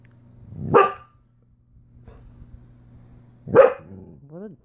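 A dog in the video game Fallout 4 lets out two sharp, loud barks a few seconds apart over a faint low hum, with a soft short yelp trailing the second bark.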